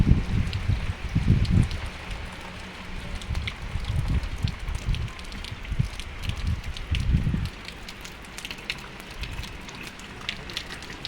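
Rain falling in a village, a steady patter and hiss with heavier gusty bursts of water and wind throughout, no voices.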